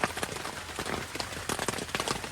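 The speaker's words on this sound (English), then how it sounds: "it's still raining" Steady rain falls outdoors, a dense, even hiss with scattered irregular drops and patters spread through the whole stretch, moderately loud and continuous with no voices.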